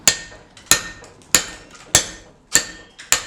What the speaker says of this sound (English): The best way to hammer is down.